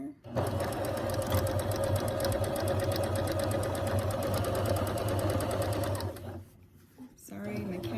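A sewing machine stitching fabric runs steadily and loudly at a fast, even buzz for about six seconds, then stops briefly before starting again.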